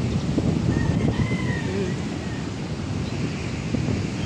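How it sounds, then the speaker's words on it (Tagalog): Sea waves surge onto a sandy resort shore in a continuous, rumbling roar of surf mixed with wind buffeting the microphone, with faint bird calls above it. "yan ang talbukan ng dagat eh"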